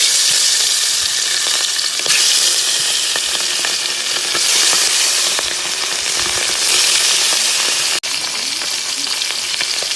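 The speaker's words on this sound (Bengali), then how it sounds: "তেল গরম হয়ে গেছে, এখন মাছগুলোকে ভেজে নেব।" Hilsa fish pieces coated in salt and turmeric fry in hot oil in a wok, giving a loud, continuous close sizzle with crackles and spatters throughout and no talking.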